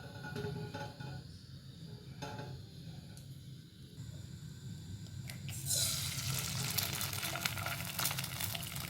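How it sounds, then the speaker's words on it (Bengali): Egg frying in oil in a wok, a low steady sizzle with faint clinks that swells into a louder, brighter crackle partway through. "ডিমটা দিয়ে দিলাম কড়াইয়ের মধ্যে"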